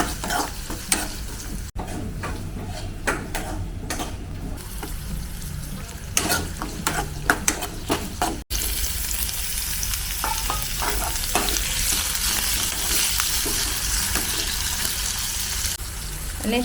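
Garlic frying in hot oil in a home kitchen, a steady crackling sizzle running throughout with stirring clatter, louder and denser in the second half.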